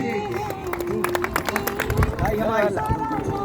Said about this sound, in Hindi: जोरदार तालियां बजाते चलें।